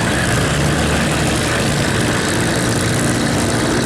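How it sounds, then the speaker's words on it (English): Grumman Bearcat warbird's piston engine and propeller running, a loud, constant broadband roar with a heavy low drone, close and unbroken throughout. "here is a Warbird we've most definitely enjoyed over the years, the Bearcat."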